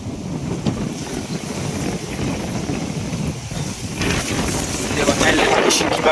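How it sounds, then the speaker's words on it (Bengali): Strong storm wind roars and buffets the microphone continuously near a mosque, a dense rushing noise that grows louder toward the end, with faint voices beneath it. "বাতাস কত পরিমাণে আইতাছে"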